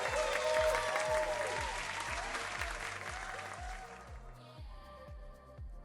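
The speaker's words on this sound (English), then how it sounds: "Round of applause." Applause from a crowd fills the first few seconds, then fades out, with a rhythmic musical beat playing underneath.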